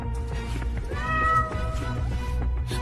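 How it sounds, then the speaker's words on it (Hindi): A cat meows in a drawn-out, wavering cry, close and fairly loud, with a low rumbling background underneath and no talk. "निकलो, गंदी बिल्ली।"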